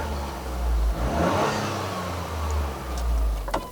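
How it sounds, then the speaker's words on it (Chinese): A 2023 Toyota GR Corolla's turbocharged engine revs up from the driver's seat, a steady low roar rising and falling over a few seconds with no talk. "我们踩一点油门来听听看它声音。"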